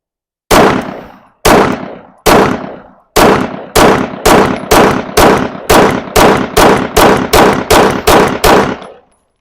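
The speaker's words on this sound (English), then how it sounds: "Let's fire a magazine full of that. Again, I loaded 16 rounds in the 17 round magazine" A Sig P365 pistol fires sixteen loud, close gunshots, each with a short ringing decay. The first few come with longer gaps, then the rest follow in a fast, steady string until the magazine runs empty.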